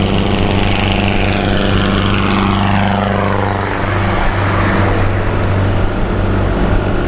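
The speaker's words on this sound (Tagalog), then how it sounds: "Hirap na yung makina nun" Motorcycle engine labouring on a steep unpaved uphill road, a loud continuous droning hum with a slowly shifting pitch, close and unbroken, no talk.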